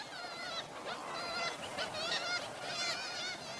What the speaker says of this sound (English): Kittiwake, kittiwake, a sound that embodies the seabird colony.